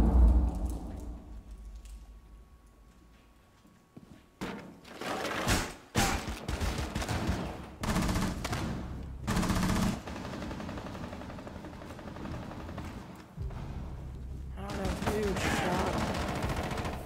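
Rainbow Six Siege gunfire comes in several bursts of rapid automatic shots separated by short pauses, loud and close. Quieter game sounds and some talk run between the bursts.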